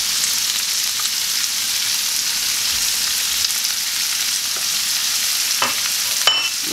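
Onion and meat frying in a pan while being stirred, a steady loud sizzle running throughout with scraping stir noises and a few sharp clicks near the end, no talking.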